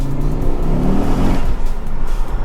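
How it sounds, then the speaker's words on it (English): A Ford Focus RS Mk2 engine pulls hard under load, its low rumble rising steadily for a couple of seconds before easing off, loud and close, with a little wheelspin. "let's do a little pull, see if you can hear it"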